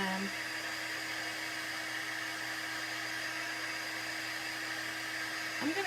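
A hair dryer blows steadily on fresh paint on an Easter craft, a constant close whine that runs unbroken the whole time.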